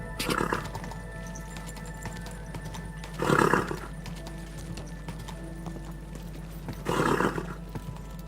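Horse sounds in the video game Kingdom Come: Deliverance II, with hooves clopping lightly, broken by two loud whinnying snorts a few seconds apart over a faint steady hum.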